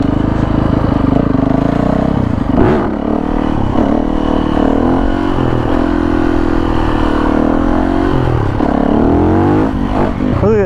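A 2017 Yamaha WR450F supermoto motorcycle ridden at low speed, its engine droning loud and close throughout with a steady, rough tone and small rises and dips as the throttle shifts.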